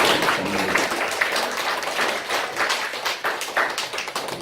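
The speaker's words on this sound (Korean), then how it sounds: "뜨거운 박수로 힘내시라고" At a Sunday church service in Cheongju, the congregation applauds the men's choir, a dense, steady patter of many hands clapping that holds level throughout.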